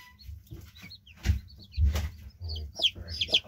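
A mother hen clucks softly near her freshly hatched chicks, low intermittent clucks followed by higher chick peeps toward the end, close and fairly quiet.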